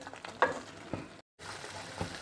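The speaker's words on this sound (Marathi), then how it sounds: "आपण काजू घातलेला आहे त्यामुळे कढईला मसाला चिटकण्याची शक्यता असते, त्यामुळे एकसारखं हलवत राहायचं आहे आणि तेल सुटेपर्यंत आपल्याला हे परतून घ्यायचं आहे।" Paneer korma masala with cashews stirred and sautéed in a kadhai until the oil separates, heard as soft close sizzling with a few scraping spoon strokes and a brief silent break.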